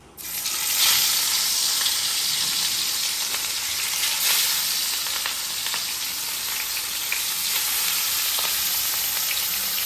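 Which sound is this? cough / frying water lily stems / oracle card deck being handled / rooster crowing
frying water lily stems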